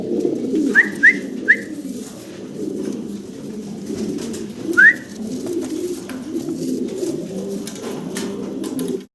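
A pair of cream-bar German Beauty Homer pigeons coo steadily and close by in a low, continuous rolling murmur, with a few short bright bird calls cutting in above it.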